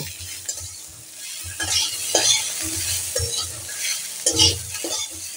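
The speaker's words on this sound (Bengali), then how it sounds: "খুন্তির আওয়াজটা শুনেই বুঝতে পারছেন যে করলাটা অনেকটাই ভাজা ভাজা হয়ে এসছে" A metal spatula scrapes and stirs bitter gourd frying in a wok, with repeated scraping strokes over a steady sizzle, close and fairly loud.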